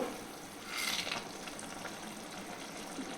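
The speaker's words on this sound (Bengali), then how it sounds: "পাঁচ সাত মিনিট জলটা ফোটার পরে আমি পাট পাতা দিয়ে দিচ্ছি ডালে গুঁড়িটাও দিয়ে দেবো" Jute leaves and lentil dumplings dropped into a pot of boiling water, giving a faint bubbling simmer with a brief splashy burst near the start, quiet and close.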